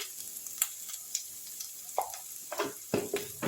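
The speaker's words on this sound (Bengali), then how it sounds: "আদা রসুন পেঁয়াজ টমেটো গরম মশলা সব ফোড়নগুলো আমার এরকম একটু ভাজা ভাজা হয়ে এসছে" Ginger, garlic, onion, tomato and garam masala fry in a pan with a steady close sizzle, broken by several louder stirring scrapes toward the end.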